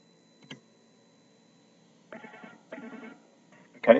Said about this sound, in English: So I'm actually going to ring that phone from here.